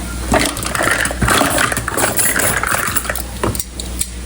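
Magnetic measuring spoons clink and rattle against each other as they are handled in a kitchen, making a busy run of close metallic taps and scrapes with no talking.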